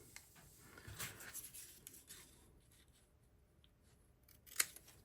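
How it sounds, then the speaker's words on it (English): Quiet snipping and rustling of paper being cut with scissors, a few soft cuts followed by a sharper click near the end. "so I'm going to use scissors."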